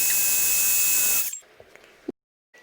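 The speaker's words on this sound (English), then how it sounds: "And then begin with the hairdryer once again." A steady airy whoosh of a hair dryer on a low setting, drying a mold, runs for about a second, then switches off, leaving near silence with a few faint clicks.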